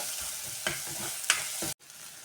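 Potato and dal vegetable being stirred in a hot pan, a soft sizzle broken by a few spoon scrapes before cutting off abruptly.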